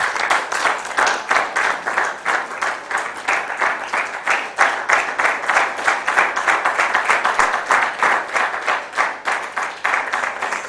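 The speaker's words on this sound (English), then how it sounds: "Please keep clapping as she comes" Audience clapping as a guest walks onto a stage at a filmmakers' event, loud rhythmic applause with regular, pulsing beats that continues unbroken throughout.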